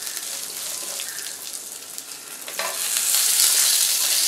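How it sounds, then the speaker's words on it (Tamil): Tomatoes sauté in a pan with asafoetida, a close crackling sizzle that grows noticeably louder and fuller partway through, with no voices. "தக்காளி வந்து நல்லா வதக்கணும்"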